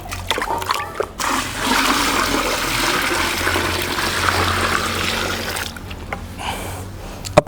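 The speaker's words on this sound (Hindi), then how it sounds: "इसको पूरा पानी से भर देता हूँ।" Water gushes steadily into a drum for several seconds, a loud, continuous rushing splash that thins to trickles and drips near the end.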